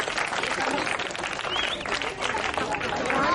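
Applause at a taluk-level football prize distribution ceremony: a crowd claps steadily and densely for a few seconds, a continuous patter without pause.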